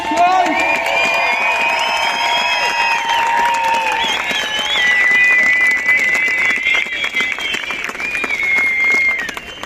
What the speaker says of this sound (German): Jetzt Applaus für euch!